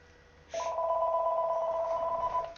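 A telephone bell rings in a single steady electronic trill starting about half a second in and holding until the end, clear and fairly close with no talk over it, heard during a 1964 Red Sox vs Twins baseball game broadcast.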